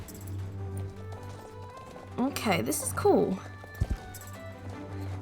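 Horse hooves clip-clop in the Star Stable Online video game during show jumping on a not fully trained horse, a soft steady rhythm beneath game music, with a person talking over it.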